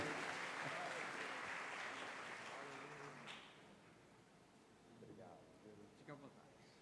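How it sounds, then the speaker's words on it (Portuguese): A church congregation applauding at a worship service, with steady clapping that fades gradually, while a voice speaks over it toward the end. "Vamos receber com um grande aplauso, em nome de Jesus."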